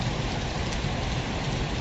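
Heavy rain falls in a dense, steady hiss of drops on surfaces, loud and unbroken throughout with no voices.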